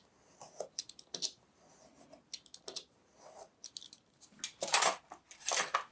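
Scissors or a blade slice through bookbinding scrap paper in a series of quiet, close snips and crisp scraping cuts, ending in a few louder, longer cutting strokes.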